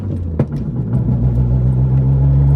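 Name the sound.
kei car engine revving during downshift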